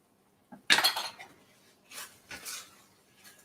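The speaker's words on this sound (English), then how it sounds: "You stir this all around until the butter and the cheese are all melted and stirred in good" A spoon scrapes and clinks against a cast iron pan while butter and cheese are stirred into risotto, with a sharp clatter followed by softer scraping strokes, close up and fairly quiet.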